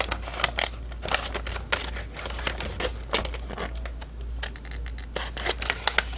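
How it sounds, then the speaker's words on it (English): Scissors snip repeatedly through paper while crafting an envelope, a quick run of close, crisp cuts with faint crinkling, no talking. "But yeah, I'm just going to snip that."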